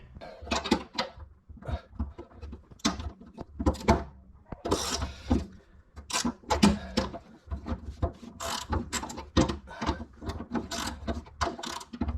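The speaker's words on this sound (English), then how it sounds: "We're going to give it a go and see if we can get it out with a socket." A socket wrench ratchets on a tack-welded nut on a Ford XW, producing close, loud bursts of rapid clicking in a repeated back-and-forth rhythm.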